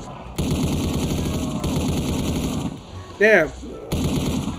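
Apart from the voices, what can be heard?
minigun firing in video game Black Ops 3 zombies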